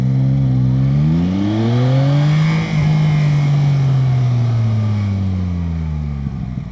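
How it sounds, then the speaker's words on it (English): A Yamaha Tracer 9 GT 2025 triple-cylinder motorcycle engine revs loudly and close, rising in pitch, holding a steady drone, then easing off as the bike accelerates along the road. "I'm not in love with the engine noise"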